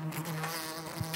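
A wasp buzzes close by in a steady, droning hum lasting about a second, a bit louder at the very end, with no talk over it.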